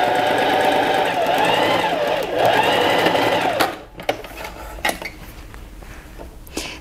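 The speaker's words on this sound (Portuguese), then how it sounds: "E vou passar a costura aqui agora, deixando a parte superior em aberto" A sewing machine runs steadily as it stitches the sides of fabric pieces for a pet's butterfly collar, a close continuous mechanical whir that stops abruptly, leaving faint clinks and handling sounds.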